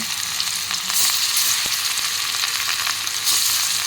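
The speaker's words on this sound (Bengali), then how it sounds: "তেলটা আমার গরম হয়ে গেছে, এর মধ্যে আমি এক এক করে মাছের পিসগুলো ছেড়ে দেব" Pieces of rui fish frying in hot mustard oil, a loud, dense, continuous sizzle and spatter heard up close with no voices.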